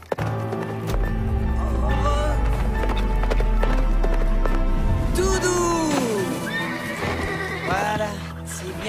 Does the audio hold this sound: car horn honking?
no